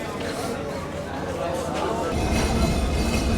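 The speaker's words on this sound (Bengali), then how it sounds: "পার্বতীপুর রেলওয়ে জাংশনে আমাদের ট্রেন তার নির্ধারিত যাত্রাবিরতি শেষ করে আবারও চলতে শুরু করলো" The Rupsha Express pulls away from Parbatipur railway junction after its halt, the rolling rumble growing louder partway through as it gathers speed, with passengers' chatter underneath.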